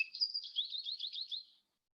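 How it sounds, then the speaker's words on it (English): American goldfinch song played back from a birding app: a rapid, warbling run of bright twittering notes lasting about a second and a half, then silence. "here you can pull up the song of the American goldfinch and play it"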